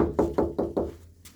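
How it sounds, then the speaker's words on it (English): Knuckles rapping on a door, four even knocks in quick succession, close and distinct, then a faint fifth tap as things go quiet. "You're going to knock on the door."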